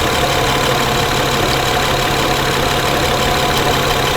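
A 2011 Honda Pilot engine idles loud and steady up close, a constant droning hum with no distinct rises or dips.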